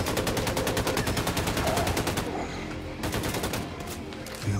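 Rapid automatic gunfire in the shooter game Wolfenstein II, a dense, loud burst of rhythmic shots for about two seconds, then scattered heavy blasts and shots with no talking.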